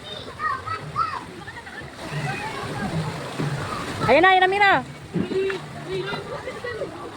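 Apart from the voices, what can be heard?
water spilling and splashing into pool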